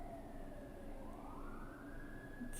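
A distant emergency vehicle siren wails in long rising and falling sweeps, steady and faint over a low background rumble, with no one talking.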